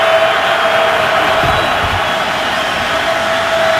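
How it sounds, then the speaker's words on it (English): Dense, steady roar of a large football stadium crowd at a Bengals at Bills NFL game, a continuous wash of cheering and noise throughout with a faint tone running beneath. "Great crowd."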